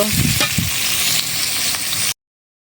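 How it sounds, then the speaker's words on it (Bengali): Chopped onion and garlic fry in oil in a pan, a loud steady sizzle with a few clattering stirs near the start, continuing without pause for about two seconds before cutting off abruptly. "দিয়ে এটা ভালোভাবে লাল লাল করে ভেজে নেব।"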